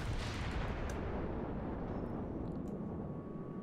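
A World of Warships battleship salvo sounds as a single deep, booming blast that rolls on as a long rumbling decay, loud and close with no voices over it.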